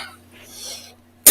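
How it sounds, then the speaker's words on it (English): A single sharp, close cough bursts out near the end, after a quiet stretch of faint room tone. "I apologize, guys, for all the coughing."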